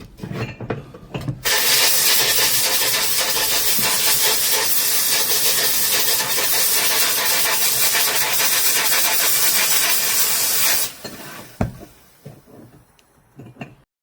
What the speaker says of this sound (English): I'm going to be using this little DIY sandblaster and chamber that I made